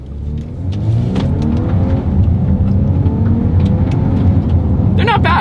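A 2024 Volkswagen Atlas accelerates hard from first gear through paddle-shifted gears. The engine revs are loud and steadily rising, heard close from inside the cabin, and there is a brief clatter near the end.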